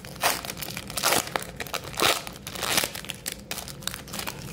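A foil wrapper on an NHL Metal Universe 2021 trading card pack is torn open by hand. Several sharp crinkling, ripping bursts come close together at close range, with no talking.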